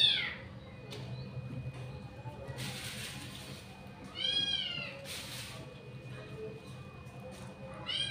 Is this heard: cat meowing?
yes